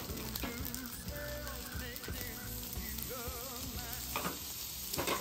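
Eggs frying on a hot hibachi griddle, a steady close sizzle and crackle that carries on without pause, with occasional scrapes and light clinks of a utensil.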